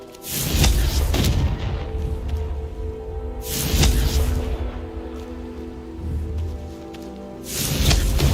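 Confringo fire spell explosions from Hogwarts Legacy: three heavy booming blasts, each swelling then rumbling away, loud and close, separated by a few seconds of lower rumble.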